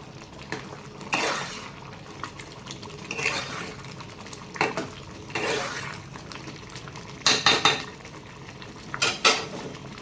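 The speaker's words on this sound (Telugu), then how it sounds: "ఒకసారి మళ్ళీ కలుపుకున్నాను." Wheat rava upma being stirred in a pan, giving intermittent scraping clinks of a spoon against metal at irregular intervals, close and fairly quiet, with no talk.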